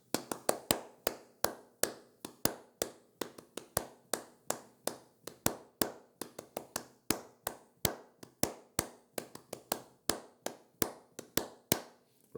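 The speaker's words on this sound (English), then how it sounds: "So if I clap that rhythm, it'll sound like this." Hands clap out a syncopated rhythm, sharp close claps in an uneven but repeating pattern over about twelve seconds, alone and quiet.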